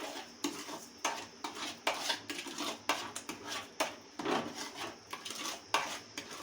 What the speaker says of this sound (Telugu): ఇప్పుడైతే మిక్స్ అయితే చేసేస్తున్నాను బాగా